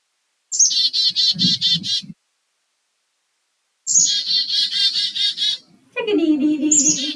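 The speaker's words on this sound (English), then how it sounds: "So let's play the chickadee." A recorded chickadee call is played back: a rapid series of high repeated notes, a pause, a second similar run, then a lower, harsher call after a short gap, loud and close.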